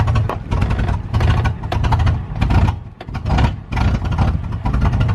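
A truck engine runs close by with a rough, throbbing rumble that swells and dips in uneven surges, as if being blipped. No one speaks over it.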